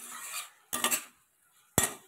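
Spoon scraping and clinking in a pan as chhena is stirred and fried with masala and potol, two distinct bursts of stirring separated by a short pause, close and fairly loud.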